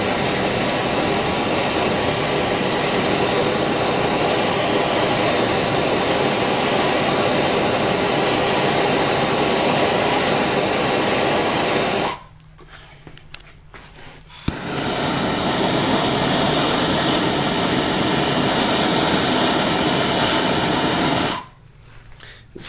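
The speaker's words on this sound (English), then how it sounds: "I'm going to anneal and warm it up right in that section" A torch roars steadily as it heats a section of a Yamaha Star Bolt metal bracket to anneal it. The loud, broadband hiss is cut by one short gap near the middle and cut off again near the end.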